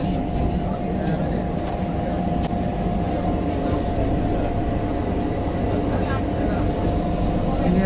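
Steady, continuous low rumble and hum from inside a moving metro rail carriage, loud and unbroken throughout with faint higher whine, no clear talk over it.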